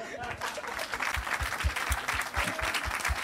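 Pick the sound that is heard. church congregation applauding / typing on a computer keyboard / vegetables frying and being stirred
church congregation applauding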